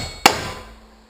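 A hammer drives a nail into a metal joist hanger during a garage build: one sharp, loud strike with a short ringing decay, then quiet.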